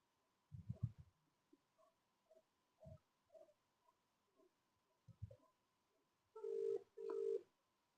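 Phone line tone while calling a ginger trader in Alur, Hassan district: scattered short beeps and clicks, then two long, loud, steady ringback tones near the end.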